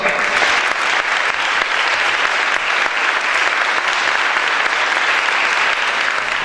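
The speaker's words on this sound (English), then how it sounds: "Please give a round of applause for Dr. David A. Shore" Lecture hall audience at a Harvard talk giving steady, dense applause for a speaker being introduced, an even roar of many hands lasting the whole stretch.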